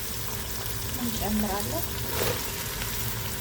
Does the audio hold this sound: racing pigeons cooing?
no